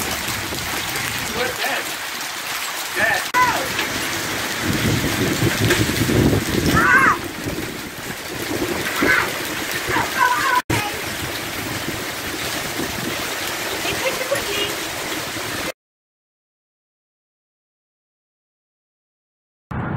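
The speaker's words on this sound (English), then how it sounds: "Beginning of the huge hailstorm that hit us that afternoon" Dense, steady pelting roars close by, like hail hammering surfaces, with voices talking over it; the sound cuts out abruptly near the end.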